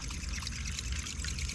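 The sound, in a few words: bass fishing popper lure splashing through water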